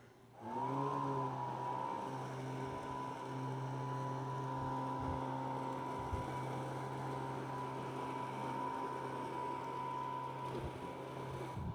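Lymow One robot lawn mower mowing, a steady motor hum with a clear tonal whine that starts up and holds evenly close by for several seconds.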